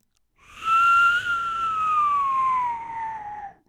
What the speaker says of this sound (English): The old nose whistle.